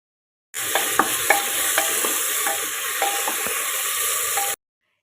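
Vegetable pieces stirred in a cooker for sambar with small onions, a continuous sizzle with regular scraping strokes of a spoon against the pot, close and steady, no voices.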